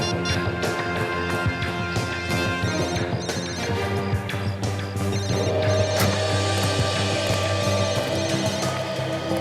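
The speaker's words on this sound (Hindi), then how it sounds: "हाँ, फोन की रिंग जैसी आवाज है।" A telephone rings amid dense background noise and music-like tones, steady throughout, with clattering sounds mixed in.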